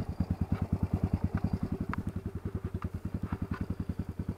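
A Honda 300ex ATV engine idles while warming up in the snow, a steady, even pulsing chug of distinct rapid beats heard up close.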